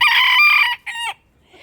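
A small backyard rooster crows loudly and close, one long call followed by a shorter, higher crow, then quiet.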